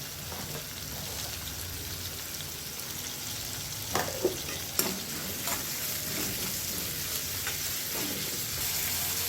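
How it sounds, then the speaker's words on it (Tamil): Chopped onions sautéing with salt in a pan make a constant close sizzle, with a few brief scraping stir strokes near the middle and no talk. "அடுத்து வெட்டி வச்சுருக்க வெங்காயம். இதை இப்போ நல்லா வதக்கி எடுத்துக்கலாம்."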